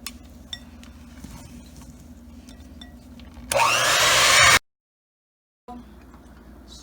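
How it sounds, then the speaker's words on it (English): An electric mixer whips cheesecake filling of cream, confectioners' sugar and vanilla essence, switching on with a loud, steady, high whir for about a second before cutting out, over a low background hum. "Now it's time for mixing."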